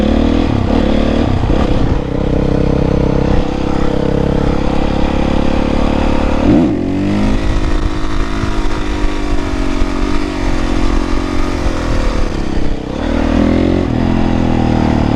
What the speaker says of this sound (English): I'm coming through on the Supermoto.